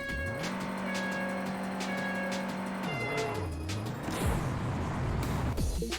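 A car engine in a racing video game revs and shifts through gears, the pitch climbing and dropping with each change, followed by tire squeal and rougher engine noise toward the end, loud and continuous with no talking.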